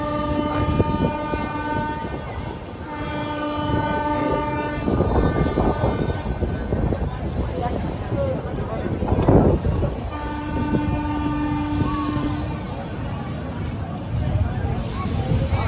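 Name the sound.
Dhauli Express and Duronto Express trains departing in parallel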